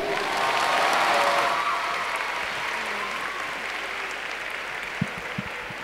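An audience at a Fairy Tail conference with Hiro Mashima at Japan Expo 2016 applauds, a dense sustained clapping that swells early and then gradually thins out, with a couple of sharp knocks near the end.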